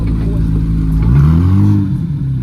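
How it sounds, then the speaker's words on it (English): A Chevrolet Corvette Z06 arrives at a car meet, its V8 engine rumbling close and loud, then revving up with a rising pitch before settling back, with faint crowd chatter around. "Got a Z06 coming in. One of the best sounding American cars"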